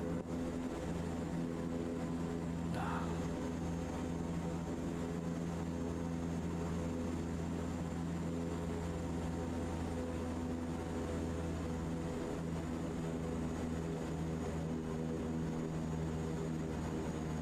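Steady propeller aircraft engine drone in Microsoft Flight Simulator 2024, flying a firefighting sortie near hilly terrain; a constant loud hum with a brief rasping burst near the start and no talk.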